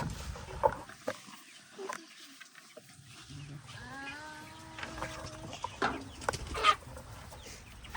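Backyard chickens clucking in bursts around a family, with a few louder calls standing out over background chatter and household noise.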